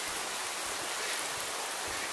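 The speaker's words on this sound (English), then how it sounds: "It's raining." Steady rain falling outdoors, an even broadband hiss with soft patter, continuous and moderately quiet, no voices.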